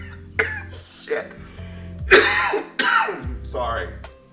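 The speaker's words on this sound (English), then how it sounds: "I'm not editing the coughs out" A series of harsh, hacking coughs in quick bursts, close and loud, with throat clearing between them.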